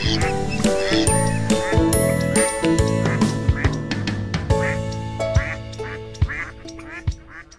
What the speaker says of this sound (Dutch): Het eendje eet.